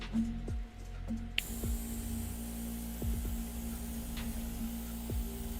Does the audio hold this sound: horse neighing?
no